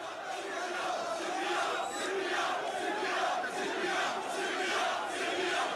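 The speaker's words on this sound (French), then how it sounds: "la foule se met à gronder un slogan" A large crowd of protesters against Bouteflika, amid tear gas volleys, chants a slogan in a steady, rhythmic roar of many voices that carries on unbroken for several seconds.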